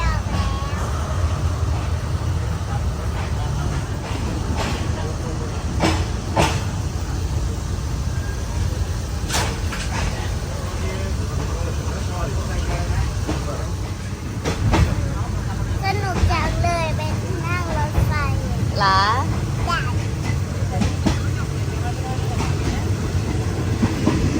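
A train rumbles along the rails with a steady low roar and occasional clanks and squeals, while people talk faintly in the background, heard from aboard a train between Hua Lamphong and Bang Sue stations in Bangkok.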